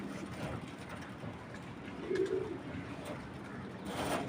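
A racing pigeon, held in a hand, gives a soft, brief coo midway through, faint against quiet background noise.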